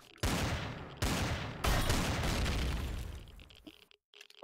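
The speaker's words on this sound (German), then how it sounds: "Achtung, Geschütz!" A gun turret in Empyrion Galactic Survival fires three heavy booming bursts in quick succession, loud and close, fading into a rumble before a brief pause.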